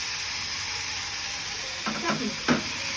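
Chalta pickle fries in mustard oil with a constant soft sizzle, then a few louder stirring clatters and spatters near the end. There is no talking.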